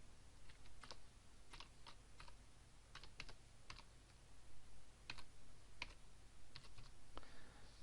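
Soft clicking keystrokes from a computer keyboard as a directory name is typed, coming in short irregular bursts with brief pauses, quiet and close with no talking.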